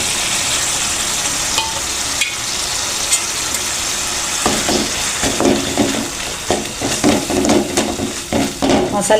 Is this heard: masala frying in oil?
yes